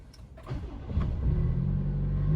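A Toyota Tacoma truck engine, fitted with a Banks intake, cranks briefly and then catches into a steady low idle that grows slightly louder, heard close up with no talking.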